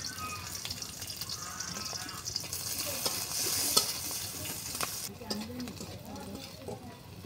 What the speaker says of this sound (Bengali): এই যে আমার দেখুন পেঁয়াজগুলো কিন্তু সুন্দরভাবে